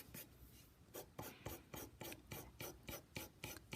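A pencil shades across sketchbook paper in quick, rhythmic back-and-forth strokes, about a dozen soft scratchy rasps in a steady rhythm, close and quiet, with no voice.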